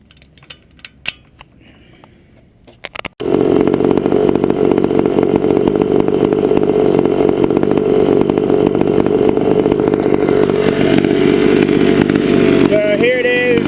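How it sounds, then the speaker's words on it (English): Grubee Skyhawk 66cc two-stroke engine on a motorized beach cruiser bike, muffler tip removed, starts after a few clicks and settles into a loud, buzzy, high-pitched idle, close up and continuous. "So here it is, running for you. Yeah, I took the tip of the muffler off."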